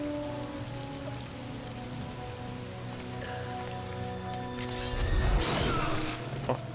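Rain falls steadily during a boss fight in the video game Devil May Cry 3, a constant soft patter under game music, with a sharp impact crash near the end.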